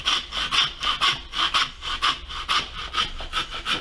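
A saw cuts through a lamb carcass during butchery in steady, rhythmic back-and-forth strokes, about eight passes, close and fairly loud, with no voices.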